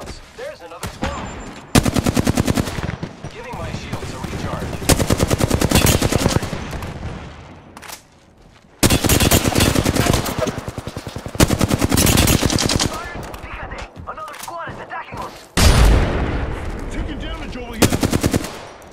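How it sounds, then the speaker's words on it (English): Enemy fire in Apex Legends: long bursts of rapid machine-gun shots, loud and close, coming in several sustained volleys broken by short pauses. "The enemies are shooting at me. Taking fire!"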